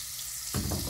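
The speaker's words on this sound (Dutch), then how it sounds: "Helemaal goed, verhit boter." Butter heats in a pan and breaks into a sudden steady sizzle halfway through, close and continuous, with no talk.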